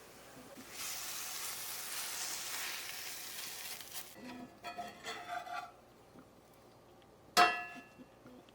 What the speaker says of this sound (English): And now we can add our egg mixture.